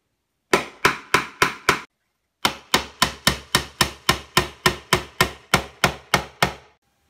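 Hammer strikes on a Moroccan tile plant pot, sharp and loud: five quick blows, a short pause, then about fifteen more in a steady rhythm, with no talking.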